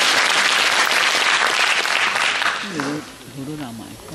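An audience at a Taoyuan Hakka Affairs Bureau ceremony gives a loud, dense burst of applause for a new bureau director. The applause holds steady for nearly three seconds, then fades as a voice begins speaking.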